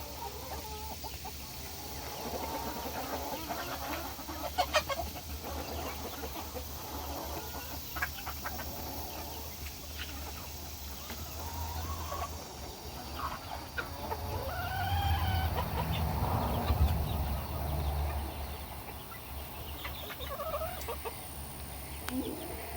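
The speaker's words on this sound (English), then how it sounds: "So just thought I'd give you guys a little view of the chickens today." Chickens cluck in a backyard coop in steady, close bursts, with a louder flurry of calls near the middle and a faint distant crow; no one speaks, and a low background rumble runs underneath.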